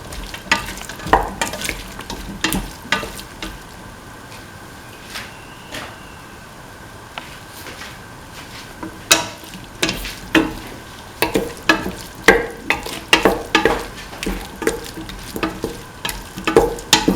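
Cauliflower pieces stirred into a sizzling curry mixture with split chickpeas, a soft frying hiss under repeated sharp scrapes and knocks of a spoon against the pan, growing busier toward the end, with no one speaking.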